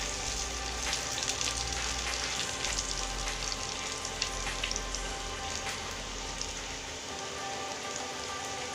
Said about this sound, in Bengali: আমি এখন এর মধ্যে 1 মিনিট নাড়াচাড়া করে নেব।